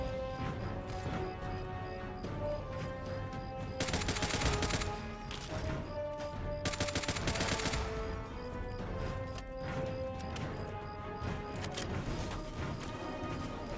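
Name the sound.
gunfire in Fallout: Tale of Two Wastelands video game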